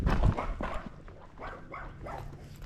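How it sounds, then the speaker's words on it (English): Several dogs bark in short, scattered bursts at close range while chasing a Tennessee Walking Horse, with hoof clip-clops and movement noise underneath. "Now we got more dogs chasing us."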